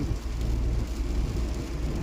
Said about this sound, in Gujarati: વરસાદ ચાલુ હોય